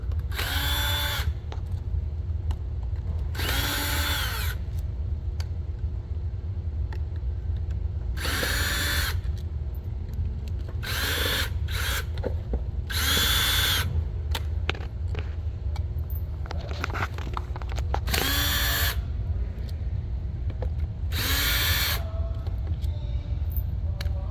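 A power drill backs screws out of the vac motor covers on a 244NX machine, sounding as about eight sharp, whining bursts, each a second or two long, over a steady low hum.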